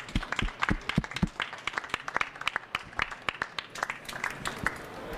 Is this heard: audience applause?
yes